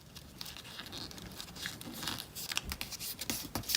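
Origami paper being folded into a pencil shape gives faint, soft crinkles and scratchy creasing sounds in a quiet room, with no voices.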